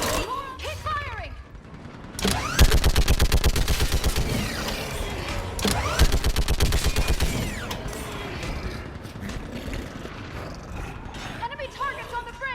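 Rapid automatic gunfire in Mass Effect 3 during the Thessia battle, with long bursts of close, loud shots that start after a quiet opening and then give way to scattered mechanical clanks and a radio-style voice.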